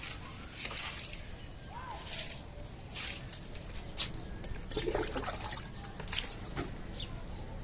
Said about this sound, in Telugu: ఒకే దగ్గర వాటర్ పోయకుండా ఇట్లా చెట్టు చుట్టూతో పోసుకోవాలండి